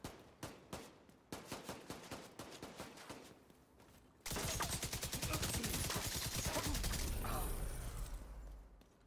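In the video game The Division 2, a rifle fires a run of evenly spaced single shots. After a short pause, a long burst of rapid automatic fire follows, steady and dense, with a faint voice in the background.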